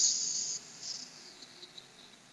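Voice imitating a rat snoring: a thin, high hiss that starts stronger, drops, then returns as a few faint, breathy wisps, quiet and close.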